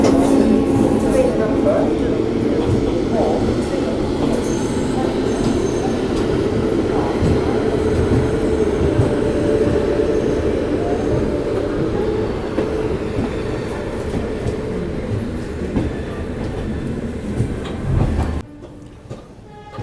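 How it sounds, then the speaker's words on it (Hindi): Garib Rath Express 22542 to Varanasi pulling out of Anand Vihar railway station in Delhi, a steady loud rumble of rolling carriages and wheels on track lasting most of the stretch, with a voice talking over it before it suddenly drops away near the end. "आनंद विहार से अपनी ट्रेन का हो चुका है डिपार्चर"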